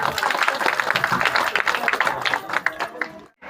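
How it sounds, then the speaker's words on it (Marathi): A crowd claps loudly and continuously at a Buddhist ceremony in Ramgaon marking the completion of the Milinda Panha text and the unveiling of a vihara. The applause is dense and sustained before cutting off abruptly near the end. "सर्वांनी टाळ्या वाजवा"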